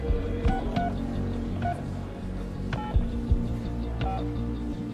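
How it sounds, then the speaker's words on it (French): A telephone is dialed in the mid-1990s, a sequence of distinct touch-tone beeps spaced unevenly over a low steady hum, with no talking. "Je décroche le téléphone pour appeler Émile Louis, quoi."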